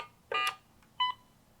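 Two short keypad tones from a Viking 1600A emergency phone as star and four are entered, each a brief clean electronic beep separated by a short pause, with nothing else around them.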